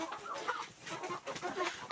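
Several chickens cluck softly and continuously nearby in a henhouse, overlapping murmurs with occasional sharper calls, fairly quiet overall.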